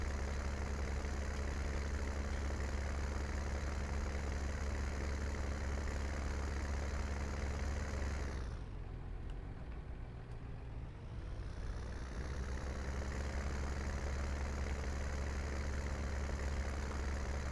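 A slow tractor engine runs in Farming Simulator 19, a steady low, rumbling drone with a strong harmonic hum that dips and muffles briefly midway before returning to its even, continuous running level.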